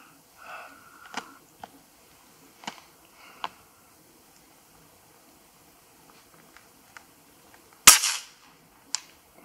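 Several sharp, quiet pops of PCP air rifle shots spaced irregularly, with one louder crack near the end, in a quiet setting.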